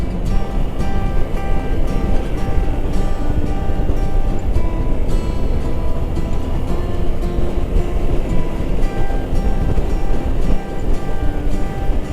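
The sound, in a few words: strong wind on a suspension bridge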